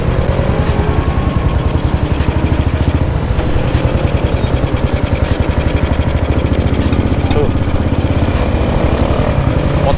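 A vintage 1952 BMW R25 motorcycle engine runs close by, a steady rapid thumping idle with dense mechanical chatter that holds loud and even throughout, with no talk over it.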